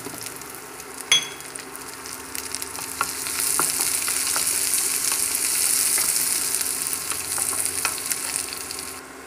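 Onions sauté in a pan for red aval upma, giving a steady close sizzle broken by occasional clicks and scrapes of stirring, with no one talking over it.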